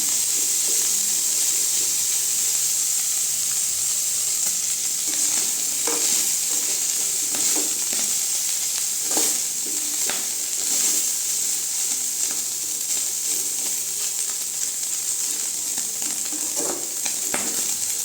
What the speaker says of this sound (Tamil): அடுப்பு சிம்மில் வச்சுட்டு இப்படி பரட்டி பரட்டி விடுங்க